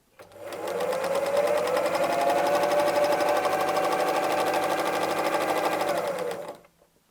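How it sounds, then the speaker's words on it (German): A sewing machine quilts a coarse leaf pattern through three layered pieces of fabric for a bottle gift bag, running as one steady, loud, close whir for about six seconds before stopping. "Ich quilte hier grobe Blätter."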